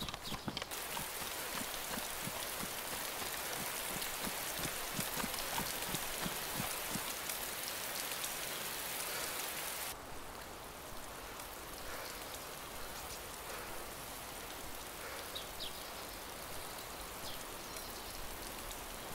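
Steady rain in the video game DayZ hisses throughout, with a rhythmic clip-clop of hooves in the first half before the downpour continues alone.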